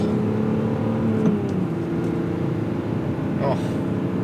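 A BMW E46 M3 engine drones and pulls under acceleration from inside the car, a steady loud hum with rising tone and a brief shift-like blip, while someone talks over it.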